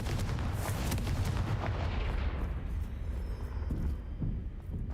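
A Confringo fire-blast spell from the Hogwarts Legacy video game erupts as a loud, booming burst that rolls and rumbles for several seconds before tapering, heard alone without speech.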